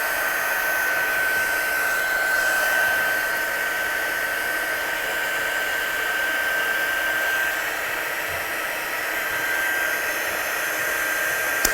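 A hair dryer blows continuously on a stamped card with wet watercolour, a loud, steady whooshing drone with a thin constant whine that runs unbroken throughout.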